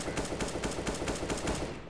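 Rapid automatic gunfire in the video game CS:GO, a steady string of about eight sharp, loud shots in even rhythm with nobody talking over them.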